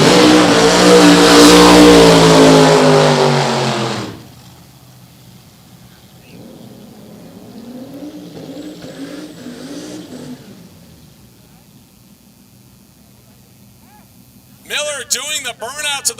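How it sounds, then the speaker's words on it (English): Supercharged 1965 Ford Mustang coupe at a drag race: a roaring, very loud engine blast for a few seconds that cuts off and fades, then a distant hum under a commentator's talk. "Royce Miller, the Supercharged 1965 Mustang Coupe"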